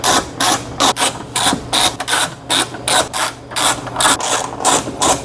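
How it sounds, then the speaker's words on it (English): Bolts on the front bumper of a Tesla Model Y coming off with a ratchet, a loud, steady run of rapid clicking strokes in short rhythmic bursts, close up and with no voices. "take off these bolts right here. So let's go ahead and take those off."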